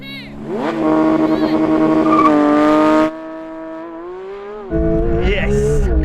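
A Porsche 911 GT3 and a BMW M4 CSL launch side by side in a drag race, loud revving engines climbing through gears with a shift break and renewed roar, poor traction off the line.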